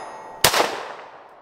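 A single sharp gunshot from a Smith & Wesson SD9 2.0 pistol at a shooting range, loud and close with an abrupt crack followed by a short ringing decay, no talking.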